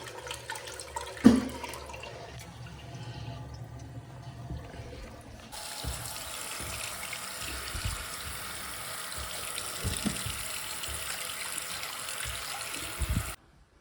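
A newly installed toilet pan fills with water in a freshly fitted bathroom, a steady rushing flow lasting several seconds after a knock, then stopping abruptly.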